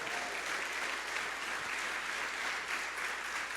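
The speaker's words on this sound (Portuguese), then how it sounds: "Bate palmas para Jesus." Church congregation applauding together in steady, dense clapping that fills the whole stretch at an even level, with no speech over it.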